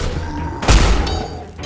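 Gunfire in the VR game Battle Talent: a single heavy burst with a deep thump and crack in the middle of the clip, loud and close over a steady background hum.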